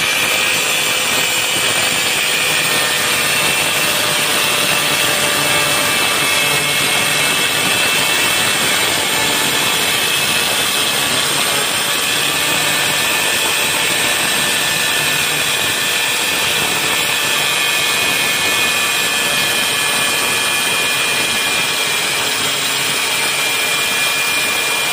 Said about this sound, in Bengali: এখন এটা আমি মেশিন দিয়ে কাটবো।